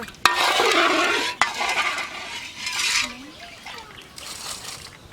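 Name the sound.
stirring sugar in a pot to dissolve it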